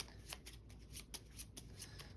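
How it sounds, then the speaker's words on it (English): Gloomhaven board game cards are shuffled by hand, a quiet run of crisp riffling snaps repeating in a steady rhythm against a soft background hiss. "we're going to take all the cards, shuffle them up again"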